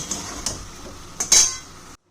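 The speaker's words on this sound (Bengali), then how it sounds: "কড়াইটা আবার বসিয়ে দিলাম।" A metal kadai knocks and clinks a few times as it is set back down on a stovetop, brief, close metallic contacts over low background hiss, ending abruptly.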